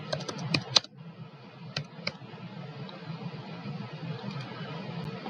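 Typing on a computer keyboard while playing a card game: a brief cluster of sharp, close key clicks at the start, then a few scattered taps over a low steady room hum.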